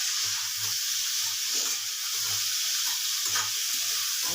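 Food frying in a pan gives a steady, close sizzling hiss throughout, with a rhythmic low knocking like stirring or utensil taps in the background.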